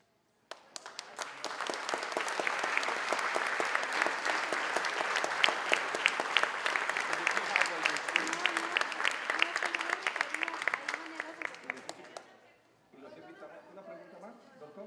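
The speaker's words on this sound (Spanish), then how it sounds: "pedimos con un aplauso." Audience applause at an academic lecture, a dense burst of many hands clapping that builds quickly, holds for about twelve seconds, then cuts off into quieter room chatter.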